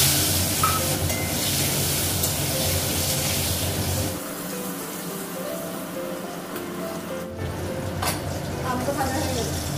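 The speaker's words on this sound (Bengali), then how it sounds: "এখন আলুটা ভাজবো।" Potatoes with turmeric fry in oil in a wok, giving a steady close hiss of sizzling that softens midway and then continues. A person speaks over the cooking.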